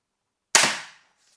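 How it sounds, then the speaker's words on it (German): An X-Bow FMA Supersonic Tactical pistol crossbow fires a single test shot, a sudden sharp crack close by that decays quickly over about half a second, with silence before it. "Nur noch mal Pistolenarmbrust."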